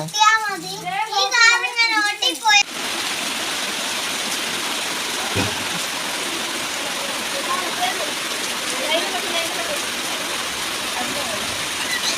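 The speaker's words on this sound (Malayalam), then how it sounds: "ചെറുതായിട്ട് മഴ പെയ്യുന്നുണ്ട് കേട്ടോ" Light rain falls outdoors as a steady, even hiss that continues unbroken for most of the stretch, preceded by a voice speaking briefly at the start.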